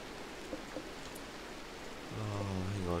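Rain falls in the video game RimWorld as a soft, steady patter, then a low droning tone rises beneath it for the final second.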